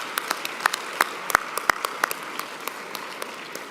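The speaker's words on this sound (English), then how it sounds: "Please join me again in a huge round of applause for all of them." Applause breaks out at a leadership election event, a crowd clapping with several sharp, loud claps standing out early before settling into a steady, thinning patter.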